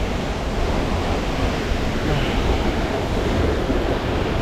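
A broad, steady roar of falling water at Binaan Falls in Buldon fills the air, loud and unbroken like heavy wind or surf, with no voices over it.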